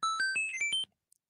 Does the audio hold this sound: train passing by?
no